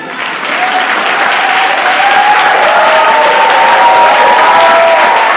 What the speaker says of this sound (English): can I also get some claps, please?